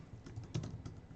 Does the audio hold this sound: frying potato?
no